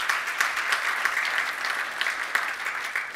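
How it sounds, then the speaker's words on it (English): Audience applause at a Marine Leadership Alliance conference session, a continuous, even patter of many hands clapping at moderate volume, heard alone without speech. "One more big round of applause for Connor."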